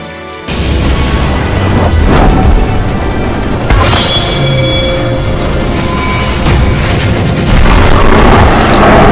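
A booming, explosive summon effect for the Dark Rebellion Xyz Dragon card in the Yu-Gi-Oh Duel Links video game, starting abruptly with a loud crash and a sustained roar, with further bursts near the middle and end.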